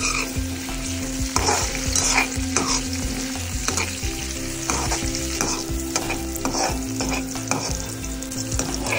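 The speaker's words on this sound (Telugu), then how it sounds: "ఇప్పుడు అదే ప్యాన్లో ఇంకొంచెం ఆయిల్ హీట్ చేసుకొని దాంట్లో మష్రూమ్ పీసెస్ని వేసి వీటిని కూడా బాగా ఫ్రై చేసుకోండి" Mushroom pieces frying in hot oil in a pan, a loud dense sizzle with crackles and repeated stirring scrapes, close and steady throughout with no talk.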